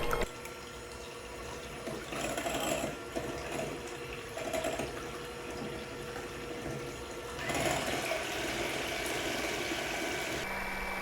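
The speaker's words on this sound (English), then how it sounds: "Why am I doing this with a hand mixer?" Hand mixer whipping egg whites for keto cookie dough bread, a steady whirring buzz that runs continuously throughout, with brief surges and shifts in pitch as the beaters move through the bowl; no talking.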